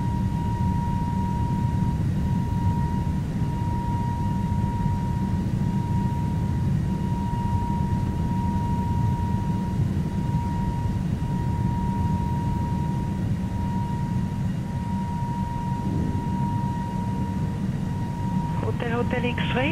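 A British Airways Airbus A380-800 in Flight Simulator 2020 taxis and takes off at London Heathrow. Its engines make a steady, heavy roar with a faint high whine, as radio chatter and light clicks come through near the end.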